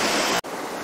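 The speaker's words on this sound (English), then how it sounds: "This is the Castor River, right around kilometer 82." The Castor River on Anticosti Island rushes past, a close, steady broadband wash of flowing water that cuts out abruptly for an instant midway before resuming.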